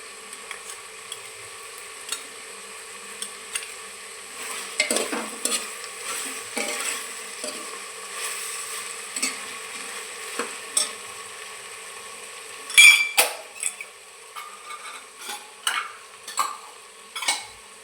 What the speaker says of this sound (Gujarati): હવે નાખીશું લસણ મરચાંની પેસ્ટ આમાં